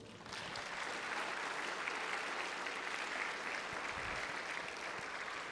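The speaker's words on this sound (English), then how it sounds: "Can you folks please give them a round of applause?" Applause fills the House Chamber, a broad, even wash of many clapping hands that starts abruptly and carries on steadily at a moderate distance.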